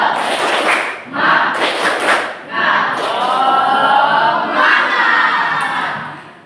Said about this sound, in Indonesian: mari kita melakukan tepuk semangat